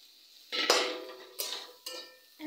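Washed rice stirred in a cooking pot, a spoon scraping and clattering against the metal in three distinct close swishes separated by brief quiet.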